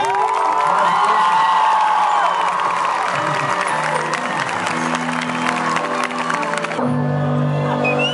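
Loud, sustained applause and cheering from a concert crowd paying tribute to an artist, with whoops and shouts throughout before tapering into a quieter crowd hum near the end.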